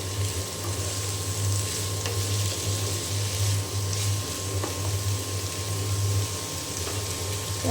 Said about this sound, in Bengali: একসঙ্গে করে ভাজি করবো পেঁপে আর আলু